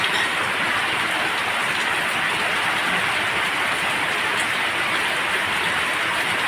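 Heavy rain falling in Bharuch after two days of continuous downpour: a dense, steady broadband hiss of rain on surfaces fills the whole stretch at constant loudness with no voices.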